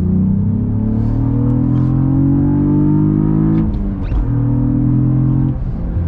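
A 2022 Cadillac CT4-V Blackwing engine revs at full throttle, a loud, close, rising drone with deep harmonics that climbs through a gear, drops at a shift, and climbs again.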